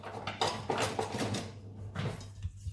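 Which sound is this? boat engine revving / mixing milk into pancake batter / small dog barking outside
mixing milk into pancake batter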